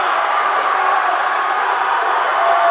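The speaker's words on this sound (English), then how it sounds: "Teams are cheering as loud as they have been all day." Spectators and teams cheer loudly at a college swim meet between Tufts and MIT during a photo-finish race, a dense, sustained roar of crowd noise with no breaks.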